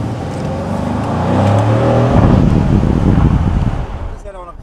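Car driving along roads through the Ardennes on a fine day, engine and road rumble building with wind buffeting the microphone, steady and close.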